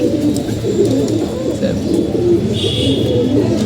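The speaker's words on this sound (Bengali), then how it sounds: "কবুতর" Pigeons coo softly in repeated low, throaty murmurs, several birds close together, with faint chirps and background hum.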